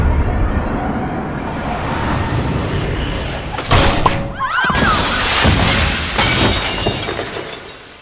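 A glass basketball backboard shatters during a game: a loud crash and spray of breaking glass cuts through a steady wash of background noise, followed by lingering bright rattling debris.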